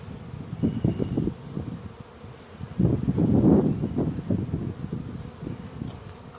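Honey bees buzz close by while a hive is opened and its frames inspected, a low, wavering hum that swells and fades in uneven pulses.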